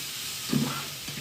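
A pan of filling frying with garlic salt sprinkled in, giving a steady sizzle under a brief scrape of stirring near the middle.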